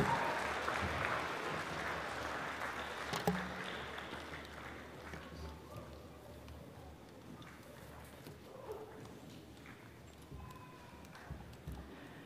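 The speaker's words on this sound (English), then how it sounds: "Let's give them another round of a clap" A crowd at the Tokelau Easter Festival 2024 claps for performers, the applause strongest at the start and gradually thinning into scattered claps and faint background murmur.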